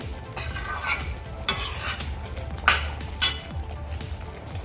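Kashmiri rajma masala gets stirred in a pan, a spoon scraping and clinking against the metal in repeated strokes over a low simmering sizzle, with two sharper knocks near the end.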